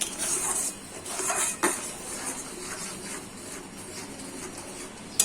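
Spoon stirring raw mango chutney with fried spices in a pan, producing repeated scraping clinks of metal against metal that come close and steady, with rhythmic strokes.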